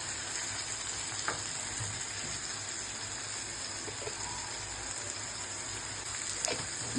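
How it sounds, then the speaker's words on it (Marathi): Masala sizzles steadily in a hot pan as it is stirred with turmeric added, a continuous frying hiss broken by a few soft scrapes of the spoon, with no voices. "आता ढवळायचं थोडं, म्हणजे मिक्स झालं पाहिजे व्यवस्थित."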